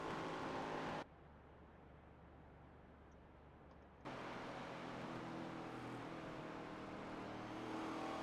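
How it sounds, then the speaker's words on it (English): A race car engine crackles and drones steadily in an ARCA Series racing video game at the Monster Mile, the hum dipping quieter for a few seconds before returning at full, even loudness. "You could just hear the crackling of the engine."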